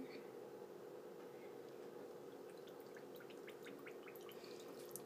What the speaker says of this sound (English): Well, that's a lot of fizzles.